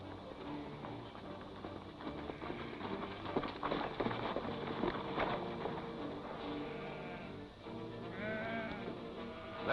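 Sheep bleating in a 1941 western film, with wavering calls layered over a dense, continuous soundtrack of music and background noise; a clearer bleat stands out near the end.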